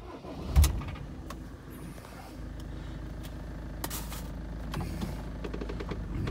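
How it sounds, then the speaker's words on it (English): A vehicle's engine starts at a riverside parking spot. A thump comes first, then the motor catches and settles into a steady low rumble that runs through to the end, fairly quiet, with no one speaking. "Just start the engine."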